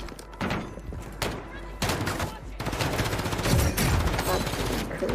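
Gunfire in the video game Call of Duty Warzone pops in a few sharp shots, then swells into denser rapid fire, near and loud, while a voice talks over the shooting.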